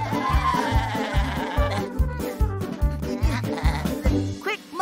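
Cartoon sheep bleat near the end over bouncy, rhythmic music with a thumping bass line.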